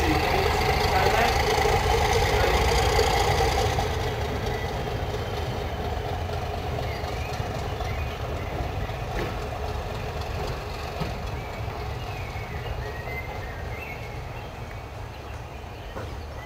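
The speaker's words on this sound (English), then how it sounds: "Right, Dave, can you pan left now, please, to see the train going out?" A green Class 31 diesel locomotive, 31 190 carrying the number D5613, departs a station with a deep, steady engine rumble that is loudest at first and then slowly fades as the train pulls away.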